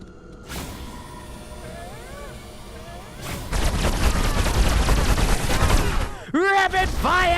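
Rapid bursts of gunfire from the Destroy All Humans 2: Reprobed video game, loud and dense, starting sparse and then rattling continuously with whooshing weapon effects, over game music and someone shouting excitedly.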